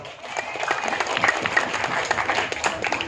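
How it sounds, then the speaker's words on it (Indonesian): An audience at a village gathering with a comic wayang performance applauds the village head, dense clapping at moderate level with a few sharper claps near the listener and a faint tonal sound mixed in. "Tepuk tangan buat Pak Lurah."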